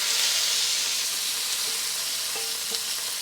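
Corn kernels frying in rendered chorizo fat in a hot wok, a steady close sizzle and hiss with faint scraping stirs and a few small clinks.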